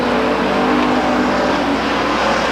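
A race car with a newly installed engine runs on the Stockton 99 Speedway track at a 2001 race, making a loud, continuous, close engine roar without a break.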